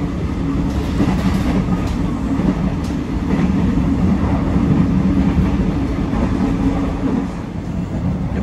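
A high-speed rail feeder train heading to Padalarang station rumbles steadily along the rails with a continuous low roar and faint rattling, loud and close throughout, no voices.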